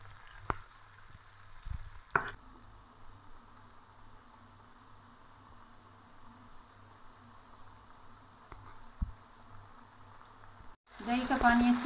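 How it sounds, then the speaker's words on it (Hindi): Achar gosht made with chicken cooks in a pot until the yogurt liquid dries, giving a low, steady sizzle and bubbling simmer with a few clinks of a utensil, ending in a louder burst of frying. "अब इसको अच्छी तरह पकाएंगे जब तक दही का पानी खुश्क ना हो जाए।"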